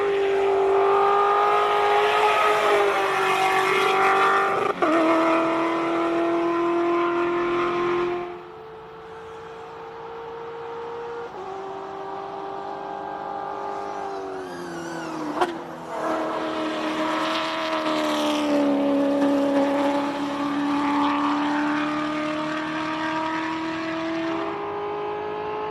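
A race car with a GTR engine climbs the Simola hill climb course, a loud sustained engine howl rising through the gears with brief dips at each shift, heard alone throughout.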